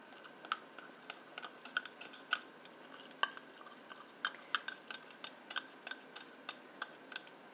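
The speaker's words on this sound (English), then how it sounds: "So you keep stirring it the whole time." Spoon stirring beeswax melting into oil in a measuring cup set in a pan of boiling water on a stove, faint quiet clinks and taps against the cup in an irregular steady rhythm.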